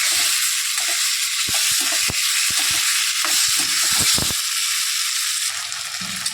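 Fried potato slices sizzle steadily in a pan while a spatula scrapes and stirs them in irregular close knocks, the frying hiss continuous throughout.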